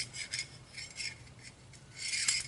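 Cleaning solvent being rubbed into the parts of a Savage 64 rifle, faint scrubbing and rasping strokes in short bursts, close up, with no voices.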